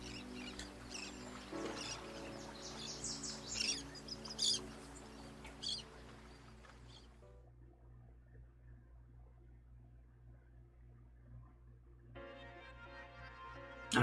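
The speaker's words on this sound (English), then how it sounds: "The chirping of the birds and the sound of the waves echoes on forever." Birds chirp over a soft wash of waves in the Persona 4 Arena Ultimax game, faint scattered tweets during the first half before fading to a quiet background, with a brief tone near the end.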